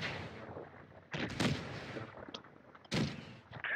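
Tank cannon shots in the World of Tanks Blitz video game, with an AMX 13 75 in the fight: two sharp booming blasts, each followed by a rumbling decay, over quieter background game noise.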